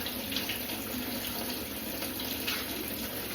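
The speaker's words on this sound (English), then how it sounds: "let me run some water off first, so I can get some hot water in my bowl" A tap runs hot water into a bowl in a sink, a steady, soft gushing and splashing stream that holds evenly throughout without any talking.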